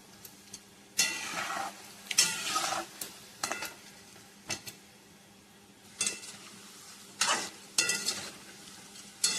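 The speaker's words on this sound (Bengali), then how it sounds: "একেবারে আস্তে জল দিয়ে ভাজতে হবে" Food frying slowly in a pan with a little water and oil, a soft continuous sizzle punctuated by repeated stirring scrapes and clinks of the spatula, close and quiet, no talking.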